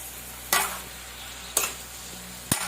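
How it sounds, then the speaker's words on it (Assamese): Meat and greens cooking over a low flame in a pot, stirred with three sharp scraping strokes about a second apart, each followed by a brief sizzle, close and fairly loud with no talk. "এবাৰ লৰাই দিম হৈছে।"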